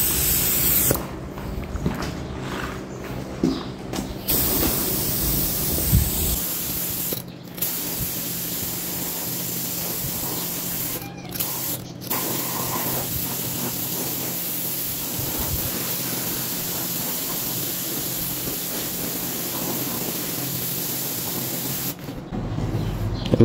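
A spray gun hisses steadily and close while automotive paint is applied to motorcycle engine parts, with short breaks between passes and brief clicks of handling.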